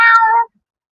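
A single short, clear meow close by in a home, lasting about half a second before silence, with no talk.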